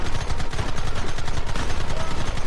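Rapid, dense gunfire in a Red Dead Redemption western shootout, loud continuous volleys of rifle and pistol shots packed together without pause.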